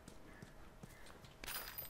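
A horse's hooves clip-clop in The Last of Us, faint, with several soft hits spread across the moment before a brighter scuff near the end.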